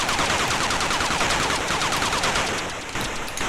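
Rapid continuous gunfire from the Atari ST game Thunderblade, a dense, loud stream of chiptune-style shots rattling without pause, alone and close.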